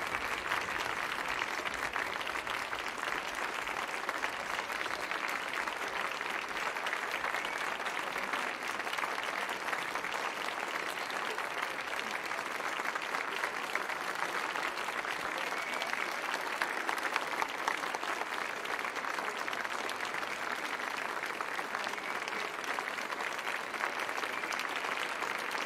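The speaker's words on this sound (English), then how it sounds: "Please give another round of applause to all the artists who performed tonight." An audience applauds after performances at a piano festival, with dense, sustained clapping that stays loud and even throughout.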